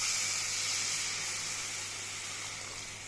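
Water hits a hot pan of frying egg curry with large green chillies and spices, giving a loud, steady hiss and sizzle that slowly fades as it settles.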